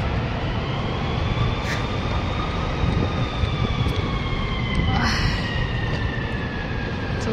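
A fire truck siren wails along a Chicago street near Union Station, rising and falling tones sweeping slowly at a distance beneath a steady, loud wash of city traffic noise.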